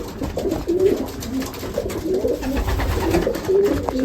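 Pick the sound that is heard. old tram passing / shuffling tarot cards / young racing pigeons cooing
young racing pigeons cooing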